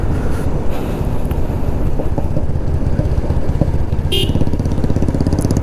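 A Bajaj Pulsar 220 motorcycle engine rumbles while riding on a road between Ooty and Wayanad, loud and steady under heavy wind buffeting on the microphone, with a brief higher whine partway through.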